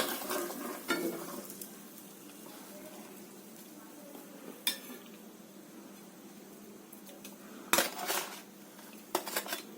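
A sweet corn dosa roasting with oil on a pan gives off a faint sizzle, broken by sharp spatula scrapes and clinks against the metal, with faint voices in the background.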